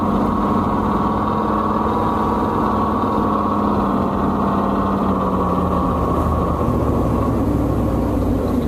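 A Sound Racer novelty gadget plays a simulated engine idle through a small speaker, a steady, unbroken droning hum held at a constant level throughout.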